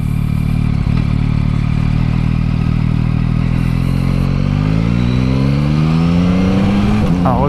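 Yamaha MT-09 motorcycle in A2 restricted form pulling hard on the road, engine note climbing steadily through the revs with a gear change near the end, loud and close over wind.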